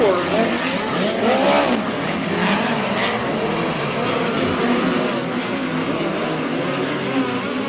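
Midget race cars in a heat race at Airport Raceway roar continuously around the track, engines rising and falling as they pass. A commentator's voice runs over the engines.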